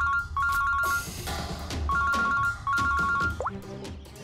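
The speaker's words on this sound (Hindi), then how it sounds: "फोन उठाओ।" A telephone rings with a repeated electronic double-tone pattern in several bursts, loud and close, mixed with background music and scene sounds.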